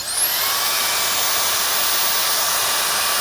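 A Meco Eleverde turbo fan duster and blower runs on its low speed setting, a loud, steady high-pitched whirring hiss with a faint rising whine as it spins up, continuous and alone.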